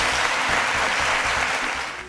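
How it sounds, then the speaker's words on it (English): A round of applause from a quiz show studio audience, steady dense clapping that sustains evenly across the short span and eases off slightly at the end. "Round of applause."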